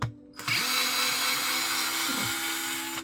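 A Worx WX242 electric screwdriver unscrewing a screw: a steady, close motor whine starts after a brief pause and runs continuously, with slight pitch dips under load.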